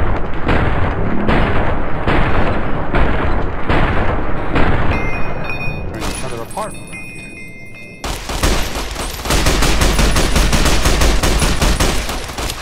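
Gunfire from a modded Fallout New Vegas game, loud and sustained: rapid repeated shots in bursts, a brief lull with metallic clinks near the middle, then a dense heavy volley. No one speaks.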